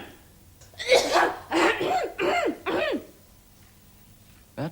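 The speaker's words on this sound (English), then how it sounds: "That is a bad cough." A man with a lingering cold coughs several times in a row, four or five harsh, hacking bursts in quick rhythm, close and fairly loud in a quiet room.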